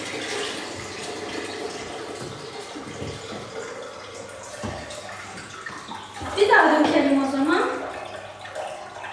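Clean tap water runs in a kitchen sink to rinse during cooking, a steady wash that swells louder near the end, with people talking and laughing over it.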